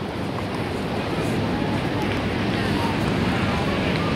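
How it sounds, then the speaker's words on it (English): Steady roar of Pacific Ocean surf at a beach, with continuous broadband wash and wind buffeting the microphone, loud and unbroken. "That's the Pacific Ocean."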